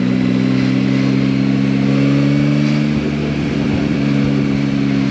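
A Yamaha Tracer 9 GT motorcycle pulls hard in fourth gear from about 40, its engine note loud and close, a strong steady drone rising slightly as it accelerates.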